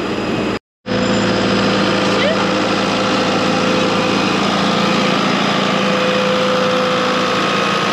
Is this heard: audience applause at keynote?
no